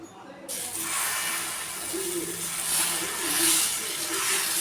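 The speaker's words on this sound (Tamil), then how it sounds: "தோசைக்கல் அடுப்பில் வச்சுருக்கேன் தோசை ஊற்றி எடுத்துக்கலாம்" Herb dosa batter made with mudakathan greens hisses steadily on a hot griddle, a broad continuous sizzle that swells and eases slightly, with no talking.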